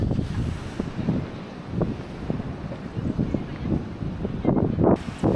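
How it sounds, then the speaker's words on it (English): Strong seaside wind blusters at the Tulum Mayan ruins, rumbling against the microphone in continuous low gusts with faint surf-like wash beneath. "as you might hear, the wind is pretty strong here."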